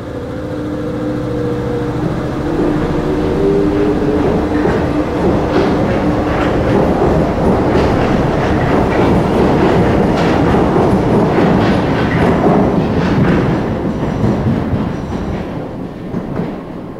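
A Paris metro train rumbles along steadily with rhythmic clacking of wheels over rail joints and a low hum, loud and continuous throughout.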